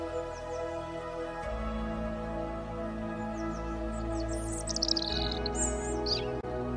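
A small caged bird gives a few quick, high chirps in the second half, set against a steady droning musical background.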